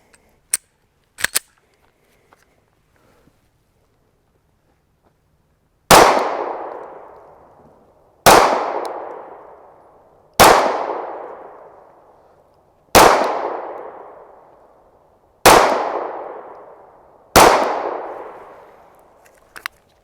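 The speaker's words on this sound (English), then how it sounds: "take 5 slow controlled shots, and we're going to put them on the dot over here" A Zev Z320 X Compact pistol fires slow, controlled shots at a range. Six loud, sharp reports land about two seconds apart, each with a quick ringing decay, after a couple of faint clicks.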